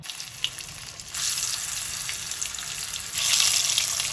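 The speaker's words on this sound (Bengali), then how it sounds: "এবার আমার সর্ষের তেল গরম হয়ে গেছে, আমি আলুগুলো ভেজে নেব।" Hot mustard oil sizzles and crackles steadily as potatoes fry, the hiss swelling louder in two distinct steps.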